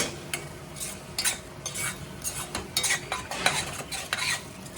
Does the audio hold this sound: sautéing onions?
yes